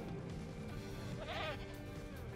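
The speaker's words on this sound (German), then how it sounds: "Und jetzt kommen wir zu den Ziegen." Goats bleat in the dinosaur park game Jurassic World Evolution, a single wavering bleat heard midway through, moderately loud over a steady background of game sound.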